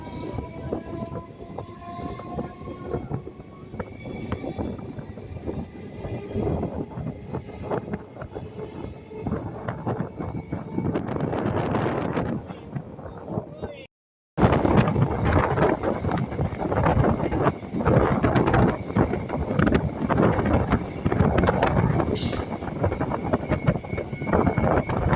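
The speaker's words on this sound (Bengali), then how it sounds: "ট্রেন এখন দ্রুত গতিতে ছুটে চলেছে" A moving suburban train between Baruipur and Lakshmikantapur rumbles and rattles steadily from inside a carriage, with rhythmic clatter and rushing noise that grows louder after a brief gap.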